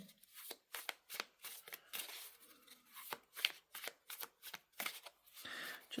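Tarot cards are shuffled in quick repeated riffling bursts, a steady crisp papery rhythm close by and fairly quiet, with no talking.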